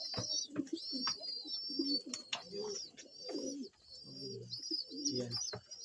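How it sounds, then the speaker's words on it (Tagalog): Breeding pigeons in a loft coo repeatedly with low, throaty, rolling calls at close range, while faint higher chirps sound in the background. "ibon natin"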